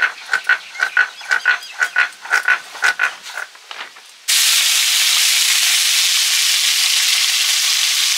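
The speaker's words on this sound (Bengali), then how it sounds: "এবারে সব রুই মাছগুলো একসঙ্গে ভেজে নিচ্ছি" Parshe and rohu fish fry in oil, a loud, dense, continuous hiss that starts abruptly after a run of rhythmic croaking-like bursts and holds steady to the end.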